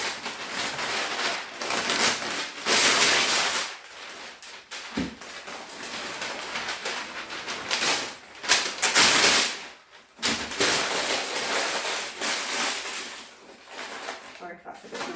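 Brown paper rustling and crinkling as it is spread into Easter gift baskets, a dense, continuous papery crackle with scattered handling bumps, close by.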